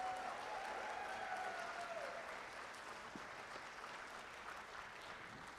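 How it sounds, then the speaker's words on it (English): Sustained applause from an audience after a Bharatanatyam arangetram dance performance, a dense, steady clapping that fills the hall and slowly tapers without fading out. "warm round of applause."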